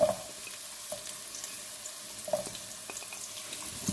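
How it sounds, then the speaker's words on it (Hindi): Onions and green onions browning in a pan for a chicken vegetable stir fry, with a steady faint sizzle and a few soft clinks of stirring throughout. "प्याज हम पहले डालेंगे, इसको हमने ब्राउन करना है।"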